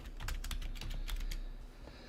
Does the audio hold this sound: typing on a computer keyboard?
yes